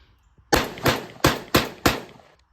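Five loud shotgun blasts from a Mossberg 930 Tactical fired at an outdoor berm, spaced evenly about a third of a second apart, each a sharp broadband crack with a short decaying tail, no talking.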